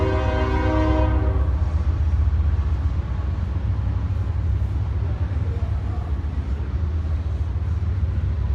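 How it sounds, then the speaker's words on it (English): A train rumbles past at close range, with a loud horn blast sounding over the first second and a half, followed by continuous heavy rail noise. "Let's give that train just a second here."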